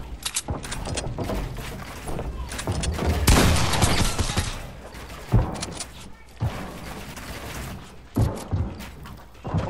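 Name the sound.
burst gunfire in a shooter video game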